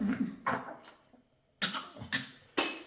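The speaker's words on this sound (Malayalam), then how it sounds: "ചുമയെല്ലാം വരുന്നുണ്ട്" A person coughs several times in short, separate bursts, close and fairly loud, with quiet pauses in between.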